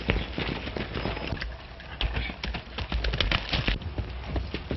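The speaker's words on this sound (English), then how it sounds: "Get on your horses" Several horses gallop in a 1933 western film soundtrack, giving a dense, continuous clatter of hoofbeats that is loud and near throughout, with a muffled, thin old-film recording quality.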